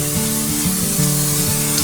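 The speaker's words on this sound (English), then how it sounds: "you want to spray the bottom of a 9 by 13 baking dish" Cooking spray hissing onto the bottom of a 9 by 13 baking dish, a loud, close, continuous aerosol spray lasting under two seconds.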